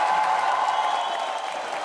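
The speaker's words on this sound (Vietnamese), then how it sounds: "Xin một tràng pháo tay thật lớn nữa ạ." A studio audience at a televised Vietnamese competition show applauds in a dense, even wash of clapping that tails off slightly toward the end, with no voices over it.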